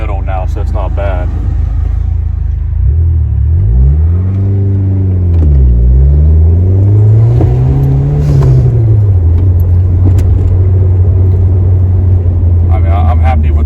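A vehicle engine idles and revs close by, rising and falling twice in pitch before settling into a steady, loud rumble, with people talking over it.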